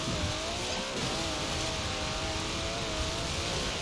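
A race car engine in Forza Horizon 4 holds a steady, loud drone with rising and falling harmonic tones as it revs and shifts, and a constant wash of road and wind noise runs underneath.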